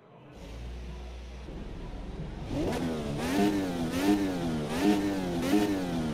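A 2.2-liter V8 of the 2023 Formula USA race car in the AMS2 racing sim starts up: a starter whine, then the engine catches and revs repeatedly, rising and falling in sharp blips over a low idle.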